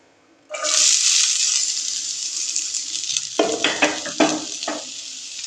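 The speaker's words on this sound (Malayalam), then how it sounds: "അതിനുശേഷം ചെറുതായി അരിഞ്ഞു വെച്ച 2 സവാള ഇട്ട് കൊടുക്കാം." Two chopped onions hit hot oil in a pan for a Malayalam-style masala pasta, bursting into a loud, steady sizzle, with scraping stirs and clatter near the end.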